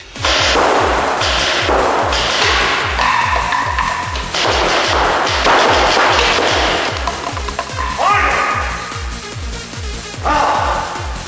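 A paintball gun fires at targets in a rapid, regular series of sharp pops across the whole stretch, loud and close, with brief breaks and some clattering impacts and no speech.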